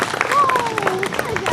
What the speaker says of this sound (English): Let's go ahead and give him a big giant round of applause.